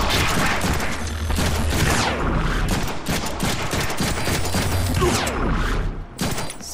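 Dense gunfire in the Deadpool video game on PS4, rapid overlapping shots and bursts with mechanical clatter, loud and continuous throughout.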